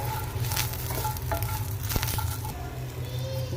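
Garlic, tamarind and cashews roasting in a hot pan, a steady crackling sizzle broken by a few sharp scrapes and clicks of stirring, close and clear with no talking.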